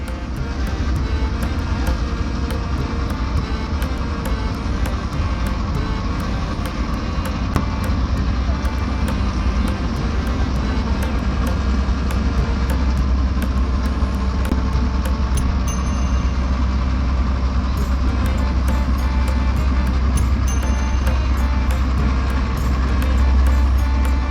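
Sand- or brick-carrying cargo trawler boats on the Padma river, a loud steady low diesel engine drone running continuously throughout, with a voice talking over it.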